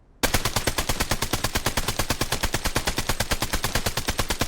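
Rapid automatic gunfire from a gun in the Blood Strike video game, hip-fired at a training dummy: a loud, steady stream of sharp shots in quick even rhythm lasting the whole stretch, with no talk.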